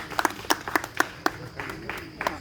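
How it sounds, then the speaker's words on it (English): Scattered, uneven hand claps from a small audience at a book launch, a handful of distinct sharp claps spaced irregularly, with a faint voice in the background. "a round of applause for Doctor"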